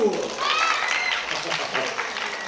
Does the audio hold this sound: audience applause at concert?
yes